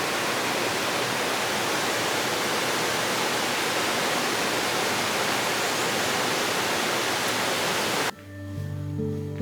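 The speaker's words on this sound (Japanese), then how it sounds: "川の流れる音が心地いいです。" A steady, full rush of flowing river water beside a hotel in Tochigi fills the scene, broadband and constant, then cuts abruptly to a quieter room tone near the end.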